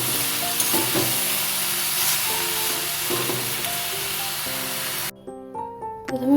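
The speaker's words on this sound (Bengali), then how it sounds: "প্রথমে বড়িটা ভেজে নেব।" Lentil dumplings (bori) frying in hot oil give a steady, dense sizzle with a few light stirring clinks, then the sizzle drops away near the end into quieter scraping.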